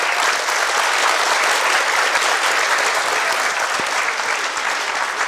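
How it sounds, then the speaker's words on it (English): A school audience at a women-in-power discussion panel claps for the panelists, a dense, even burst of applause that holds strong throughout, filling the room with no break. "Can we get a big round of applause for all of our panelists?"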